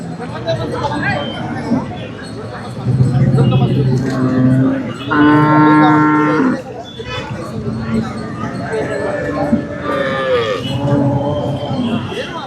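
Cattle moo repeatedly at Sardar Nagar livestock market, several loud drawn-out calls among small cows and buffaloes, rising over a busy crowd murmur while someone talks nearby.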